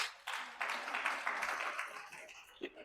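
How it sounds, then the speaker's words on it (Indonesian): Scattered applause from a church congregation, a dense wash of clapping that holds steady for a few seconds and then starts to thin out. "Tepuk tangan bagi Tuhan."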